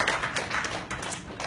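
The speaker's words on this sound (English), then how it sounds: "A big round of applause for our local promoter." A crowd at a press meet in Singapore claps for a local promoter, a brief burst of dense, close applause that holds steady throughout without speech.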